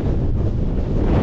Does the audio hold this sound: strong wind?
yes